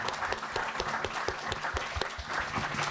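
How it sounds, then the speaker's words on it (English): A small audience at a data talks panel claps for three speakers, a brisk, crowded burst of individual hand claps heard nearby and continuing steadily throughout without talk. "I first just want to give a round of applause for you all three"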